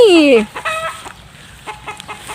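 White-eared jungle fowl giving a loud, close squawking call followed by a series of soft, scattered clucks against quiet background.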